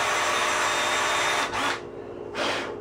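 A power drill bores through a metal ski race plate while mounting a binding, a loud continuous whine that cuts out briefly, then a second short burst of drilling.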